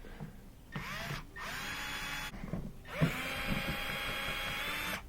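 A power driver loosens screws on an electric mower during a rebuild, whining in three close bursts with short pauses between them, and there is no talk.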